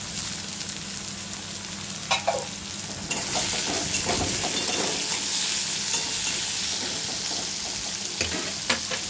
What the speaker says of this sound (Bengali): পেঁয়াজ কুচিটা দিয়ে দিলাম